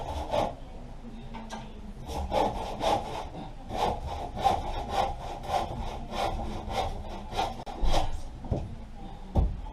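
A hand saw cuts a wooden trimmer joist during an old French house renovation, with steady, close back-and-forth rasping strokes repeating without pause.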